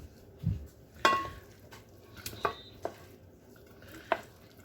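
Rice, broccoli and ham being mixed together in a dish, with scattered spoon scrapes and clinks against the dish, a few sharper taps between quiet gaps, heard close and fairly soft.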